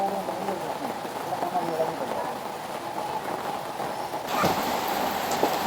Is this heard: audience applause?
no